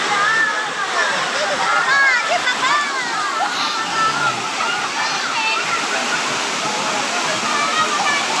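Gabur Gabur Falls pours in a loud, continuous rushing roar with splashing water close by, while children and other people talk and call out over the noise.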